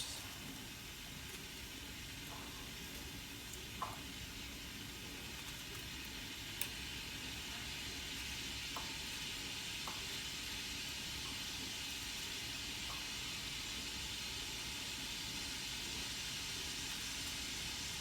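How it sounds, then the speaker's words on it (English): A waffle maker gives off a steady, faint steam hiss for the whole stretch while waffles cook, with occasional soft clicks and no talking. "you can hear it steaming in the background"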